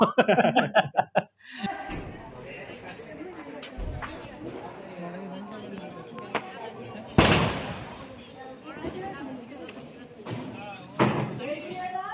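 Diwali firecrackers go off in a string of sharp cracks, then a few scattered single bangs, one loud and close. People laugh and chat between the blasts.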